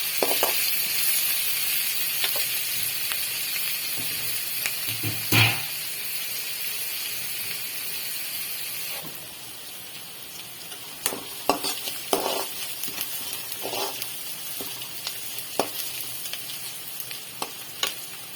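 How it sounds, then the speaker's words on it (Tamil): Onions and curry leaves sautéing in a pan for a drumstick-flower egg stir-fry give a steady close sizzle, broken by scraping spatula strokes and a sharp clack partway through, with no talking. "கூடவே கொஞ்சம் கருவேப்பிலை சேர்த்துக்கலாம் நல்லா வதக்கிக்கலாம்"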